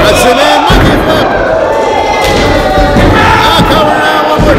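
Wrestler slammed onto the ring mat by a monkey flip at a pro wrestling show, heavy thuds landing amid a loud, roaring crowd with cheering and voices throughout.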